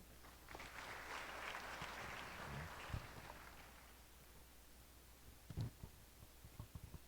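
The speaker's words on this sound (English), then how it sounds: "Again, a resounding applause to our graduating class of 2026." Crowd applause for a graduating class at a college investiture ceremony rises and then fades over several seconds, sounding distant and soft. A few low thumps and footstep-like knocks follow.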